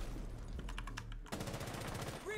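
Quick, muffled bursts of automatic gunfire rattle in Rainbow Six Siege, a fast string of repeated shots at low volume.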